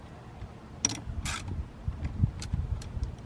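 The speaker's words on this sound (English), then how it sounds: "So right now I'm just getting these 2 8mm bolts back in." A ratchet tightens two 8mm steering wheel bolts on a 2011 Mustang, giving close, quiet clicking bursts and scattered metallic ticks.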